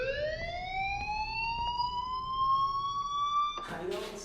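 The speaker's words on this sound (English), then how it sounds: "Hey, do you hear that fire alarm?" In the video game Life is Strange, a school fire alarm sounds as a rising, steady electronic wail that cuts off abruptly, followed by a voice speaking.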